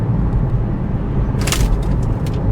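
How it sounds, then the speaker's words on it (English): Inside a Porsche 996, gritty spray from a passing gritting truck batters the car body in a sudden loud crackling burst, followed by a few scattered hits over a steady road rumble. "I've just been hit by a gritting truck,"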